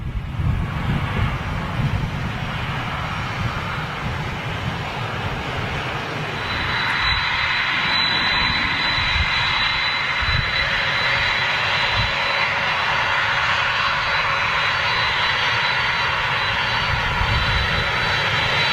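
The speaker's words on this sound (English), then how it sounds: "got more of a jet wash from that than I did the 380." A large jet aircraft passes close overhead, its loud engine roar sustained throughout and swelling midway, followed by the turbulent rush of jet wash and wind buffeting the microphone.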